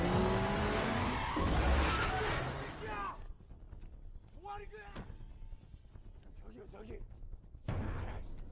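Tires squeal and a car engine roars loudly during a chase scene in a gangster-and-police crime film, followed by quieter passages with scattered voices and a renewed burst of noise near the end.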